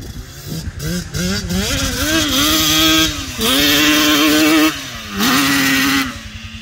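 A 100-horsepower Yamaha Banshee ATV engine revs hard and close, its rasping two-stroke roar climbing and falling through several long pulls with short drops between.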